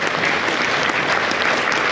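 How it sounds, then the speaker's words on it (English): A dense, steady round of applause from a conference audience at Sheraton Waikiki, many hands clapping loudly and continuously without a break. "round of applause for Helena, please"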